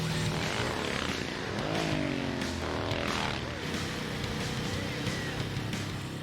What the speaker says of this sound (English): It has a sort of a racing engine in it compared to our production motorcycles.